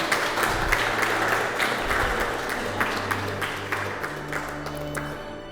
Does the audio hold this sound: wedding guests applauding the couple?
yes